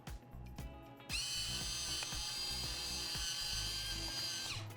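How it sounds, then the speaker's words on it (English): Fresh green cardamom is ground in a Zwilling personal blender, which whirs into a loud, high, steady grinding whine after a few preliminary clicks and runs until the clip ends, with no speech. "I'm going to grind some fresh green cardamom"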